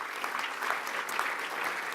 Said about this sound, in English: all of you deserve a round of applause